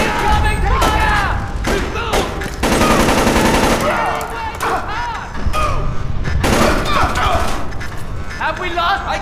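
Heavy automatic gunfire in Splinter Cell: Chaos Theory on PS3, loud rapid bursts and booming shots with short lulls, while voices shout over the firefight.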